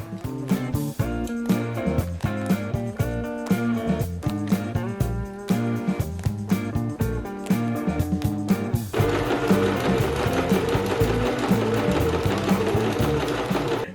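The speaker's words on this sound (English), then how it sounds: "I did a little zigzag stitch to try to mitigate that" Sewing machine zigzag stitching the seams of a corset: a rapid, steady mechanical chatter in short runs broken by brief stops, then a longer continuous stretch, loud and close.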